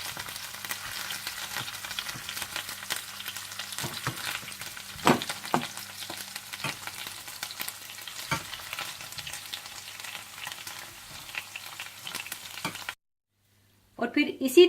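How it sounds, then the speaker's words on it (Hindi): Chicken pieces fry in a pan of oil and butter, a steady close sizzle with frequent crackles and pops for about thirteen seconds before cutting to near silence, then a brief return. "और इसे अच्छा सा फ्राई कर लें।"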